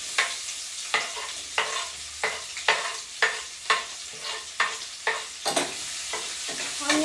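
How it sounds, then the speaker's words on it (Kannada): Onions fry in oil in a pan under a steady close sizzle, broken by regular spatula scrapes about twice a second that repeat evenly throughout with no talking. "ಸ್ವಲ್ಪ ಎಣ್ಣೆ ಹಾಕಿಸಿ ಮೇಲೆ ಆನಿಯನ್ ಹಾಕೋಣ"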